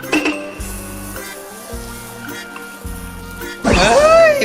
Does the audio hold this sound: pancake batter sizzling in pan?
yes